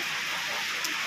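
Rain on a farm in the countryside, a steady soft broadband hiss of falling drops, continuous and fairly quiet with no one talking.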